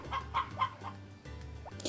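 Chickens cluck inside a hen house in the farming game Harvest Moon, several short clucking calls in uneven bursts with brief pauses, close and moderately loud.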